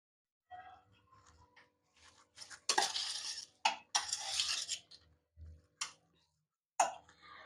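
Tawa bhel is stirred and tossed in a pan with a metal spoon, giving irregular bursts of scraping and clinking separated by short quiet gaps, close and fairly crisp.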